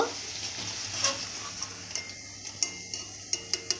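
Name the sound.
frying and stirring food in a pan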